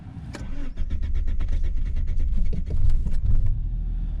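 A car engine starts in extreme cold near -40 degrees in Yakutia, cranking with a fast stuttering rhythm before catching and settling into a loud, steady, rough idle close to the microphone.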